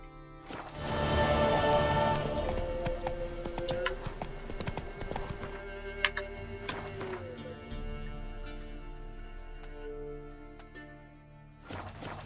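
Hooves of the horse Roach in The Witcher III beat a steady clip-clop rhythm, loud at first and then softer under game music and ambience, with a sharp tap midway and a final burst at the end.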